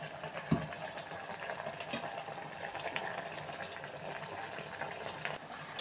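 Water boils in a cooking pot for a spinach-lentil dish, a steady soft bubbling and hiss, fairly faint and continuous, with a few small knocks and no talk.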